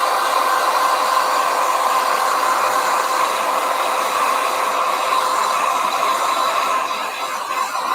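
A hair dryer blows on a watercolour painting in a loud, steady, close whir with a constant hum. It dips slightly near the end.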